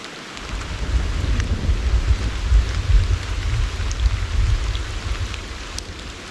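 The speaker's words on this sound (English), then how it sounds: "but now it is pouring. I'm hearing some thunder as well" Heavy rain pours down in an open field with a continuous dense hiss, while deep thunder rumbles underneath in long, rolling swells, loud and close, with no voices.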